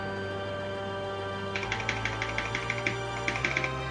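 Keyboard keys clacking in a quick irregular burst during a Pet Show game session, starting partway through over a steady low hum, fairly close and moderately loud.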